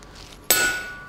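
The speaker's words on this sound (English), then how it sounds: "Half a dozen hammer blows or so, and then cool your punch down." A single sharp metallic hammer strike on a blacksmith's forged punch, a bright ringing clang that decays over about half a second after a quiet lead-in.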